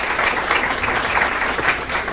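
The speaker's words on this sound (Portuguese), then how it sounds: "Vou pedir palmas para cada um dos jurados" Audience at a startup competition event applauds a jury member, a brief burst of dense, fairly loud clapping lasting a couple of seconds.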